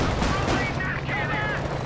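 Rapid gunfire in a Company of Heroes 2 battle, dense crackling bursts running throughout at close range, with faint voice effects mixed in.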